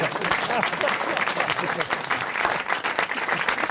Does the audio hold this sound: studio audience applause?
yes